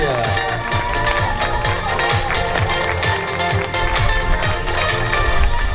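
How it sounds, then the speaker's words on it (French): Crowd applause and cheering for the boys' podium at a youth triathlon award ceremony in Saint Point, a steady dense clatter of clapping filling the whole stretch with some voices mixed in. "Tonnerre d'applaudissements"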